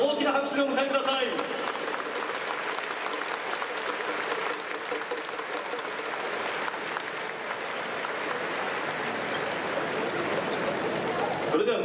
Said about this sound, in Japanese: どうぞ今一度大きな拍手でお迎えください。